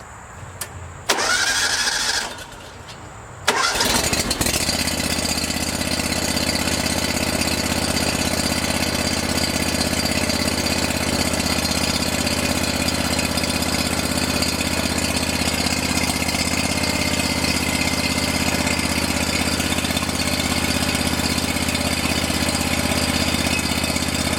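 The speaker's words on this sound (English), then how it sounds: "So I'm going to run these hydraulics through it just to make sure nothing hits it." A John Deere 318 lawn tractor engine starts after a couple of brief false starts, then runs at a steady, loud idle throughout while its hydraulics are worked, with no talking.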